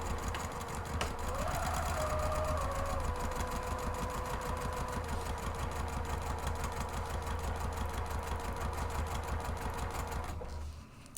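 A sewing machine runs steadily for about ten seconds, stitching the seam of a fabric and foam purse organizer, its motor whirring and needle chattering at an even pace before it stops.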